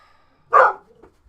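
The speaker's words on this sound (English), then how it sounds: "Is there a puppy outside?" A puppy barks outdoors, one short yelp or bark standing out at moderate distance, followed by a faint softer sound, with quiet surroundings otherwise.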